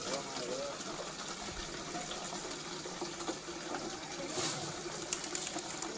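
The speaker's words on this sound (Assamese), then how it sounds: "টেপৰ পৰা পানী খাই আছে" An elephant at Kaziranga National Park in Assam drinks from a water tap, making a steady, continuous running and splashing water sound that stays fairly faint throughout, with birds calling in the background.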